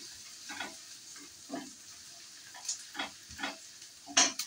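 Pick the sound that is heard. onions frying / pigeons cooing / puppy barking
onions frying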